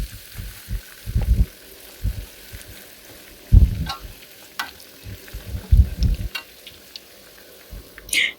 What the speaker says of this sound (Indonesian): Nah, kita panaskan minyak itu jangan terlalu panas ya, dan apinya jangan terlalu besar. Kita goreng seperti ini.